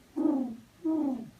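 A person's voice imitates a mourning dove's call, two soft, drawn-out cooing notes with a short pause between them, close and clear with no other sound.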